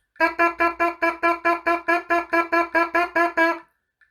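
A trombonist's lips buzz alone, without the instrument, in a run of about fourteen short, even pulses, close and clear, rehearsing a rhythm for alto trombone in a tune.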